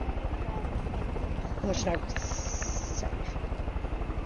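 Helicopter flying in the video game Far Cry 5, a steady rotor drone running throughout beneath German-speaking voices.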